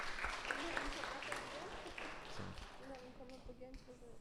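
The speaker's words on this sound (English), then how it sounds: "Let's give them another round of applause, please." Scattered applause at a senior celebration for graduating students, fairly faint and uneven, with a voice speaking over the clapping as it trails off.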